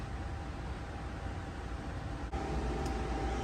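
Fans blowing steadily to cure a fuel tank coated with POR-15, a constant broadband whooshing hum with a faint tonal whine, uniform throughout with a single small click partway through.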